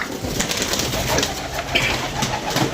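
Pigeons cooing close by in a pigeon-keeping loft, soft throaty coos repeating over a few seconds against a busy background of rustling and other birds.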